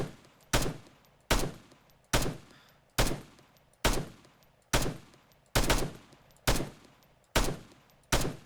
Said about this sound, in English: I'm in a 50 caliber machine gun